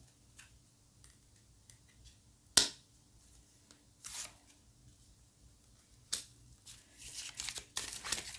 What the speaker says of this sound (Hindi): और कार्ड्स मैं निकाल रही हूँ